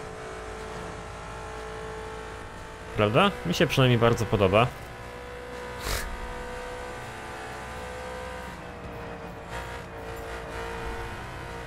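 A Ferrari 458 Speciale in The Crew video game cruises with a steady, humming engine drone, while someone briefly talks over it partway through.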